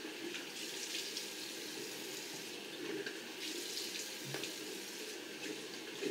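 Warm tap water runs steadily into a sink, a continuous broadband splashing rush that stays even and fairly close throughout with no voices.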